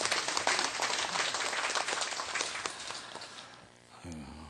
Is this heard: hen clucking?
no